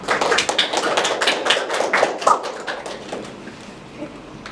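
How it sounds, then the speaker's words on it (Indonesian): Audience at an academic teaching session clapping for the presenters, a brisk round of hand claps that is loud at first and then thins out and fades away. "kita berikan aplaus buat yang tampil."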